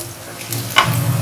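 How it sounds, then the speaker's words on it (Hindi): Onion, ginger and green chilli fry in a pan with a steady low sizzle, and a single stirring scrape lands partway through. No voices. "इस टाइम पर आप इसके अंदर अदरक और हरी मिर्ची डाल दीजिए और इसको भी कुछ सेकंड के लिए भून लीजिए"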